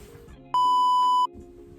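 A single steady electronic beep from a phone call notification, loud and clear for under a second, cutting over quiet room tone in a Montreal winter setting.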